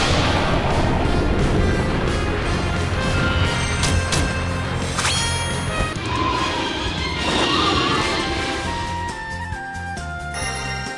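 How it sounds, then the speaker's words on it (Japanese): Gunfire in the Granblue Fantasy game, a dense run of sharp shots and crashes layered over loud continuous game music and effects for about eleven seconds, tapering slightly near the end. "これは 銃声。"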